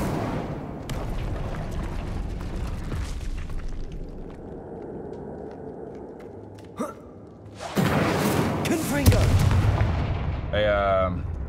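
Incendio fire spell cast in Hogwarts Legacy gives loud booming, crackling bursts and whooshes near a boiler, with a sharp crack midway and a sustained roaring flare near the end.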